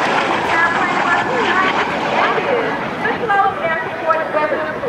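A-10 and F-86 aircraft flying a USAF Heritage Flight at the 2005 NAS Pax River Air Expo, a broad, steady jet roar at moderate distance, with an announcer talking over it through a public address system.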